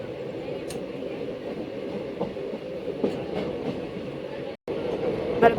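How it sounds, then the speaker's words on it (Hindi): Passenger train rolling along and gathering speed, a steady rumbling wheel-and-carriage noise with faint clicks, heard from inside the coach, with a brief dropout near the end. "और स्पीड होले को जा रही है ट्रेन।"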